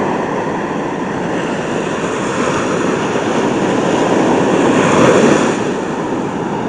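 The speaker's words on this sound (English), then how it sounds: "Pretty big waves." Big ocean waves crash and surge in a loud, continuous roar of surf, swelling slightly louder around the middle of the stretch before easing back.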